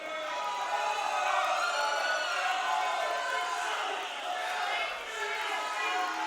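A wrestling crowd shouts and jeers at a wrestler in a continuous roar, with a commentator talking over it.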